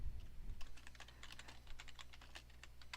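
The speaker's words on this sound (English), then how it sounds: "typing this so I don't forget it" Rapid typing on a computer keyboard, a steady run of light clicking keystrokes, close and fairly quiet over a low background hum, with no voices.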